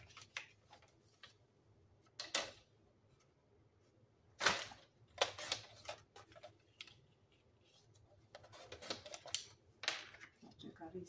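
Quiet scattered scissor snips and crisp paper cuts come in short irregular bursts as a square of paper is cut for scrapbooking, with faint rustling between them and occasional soft talking.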